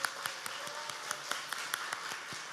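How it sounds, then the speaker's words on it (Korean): A church congregation clapping in celebration of a newly married couple, a brisk, fairly even rhythm of hand claps filling a large room at moderate level, with no speech over it. "우리 축하의 박수"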